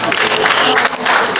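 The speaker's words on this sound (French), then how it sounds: "je veux qu'ils applaudissent." Crowd at a political rally in Benin applauding and cheering, a dense burst of loud clapping with shouts mixed in, close and continuous.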